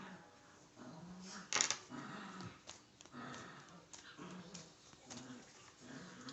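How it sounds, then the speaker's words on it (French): Dogs in a house whimper and sniff softly nearby, with short whines and a sharp yelp breaking through a quiet room tone, no talking. "il y a toujours les chiens, hein, je suis désolée, mais ils sont encore là"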